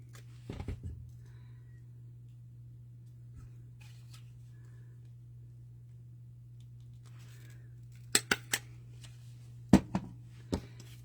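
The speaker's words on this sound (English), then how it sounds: "So I'm just going to go ahead and attach it to her with the staple." A stapler fastens a paper piece onto a handmade paper craft, giving a few sharp, close clicks in a quiet room, mostly bunched near the end.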